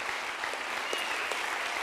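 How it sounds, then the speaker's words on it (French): Steady applause from an audience at a business awards ceremony, a continuous dense patter of clapping hands filling the room for the prize winners, moderately loud with no voices over it. "Un tonnerre d'applaudissements à nouveau pour nos lauréats"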